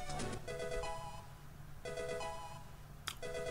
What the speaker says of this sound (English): Ring, ring, ring, ring, ring, ring, phone call.